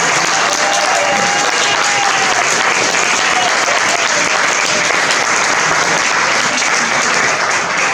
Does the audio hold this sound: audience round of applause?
yes